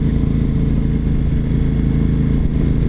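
A motorcycle engine droning loudly and steadily while a couple ride on an anniversary trip, a close, constant low rumble with slight wind and road noise and no talking.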